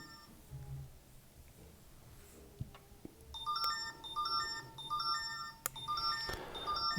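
Several short electronic phone notification chimes arrive in quick succession, sharp tonal beeps stacking up over a faint background hiss, with no talking.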